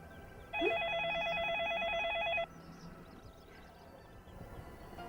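An outgoing telephone call rings: one continuous warbling ringback burst of about two seconds, clear and alone, followed by quiet room tone.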